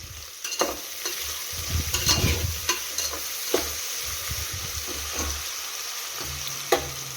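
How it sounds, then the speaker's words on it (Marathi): Chopped onion sizzles in hot oil with a little salt while a spoon scrapes and stirs the pan in irregular bursts, close and moderately loud, with no voices. "एक दोन ते तीन मिनिट कांदा असा छान फ्राय करून घेऊया"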